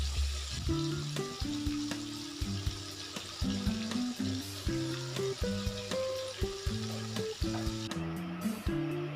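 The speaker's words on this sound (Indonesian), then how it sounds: "hari ini saya akan menggoreng lele goreng crispy" Battered crispy catfish fries in hot oil with a steady, crackling sizzle that runs throughout, with frequent small pops and an occasional stir, heard close up with no talk.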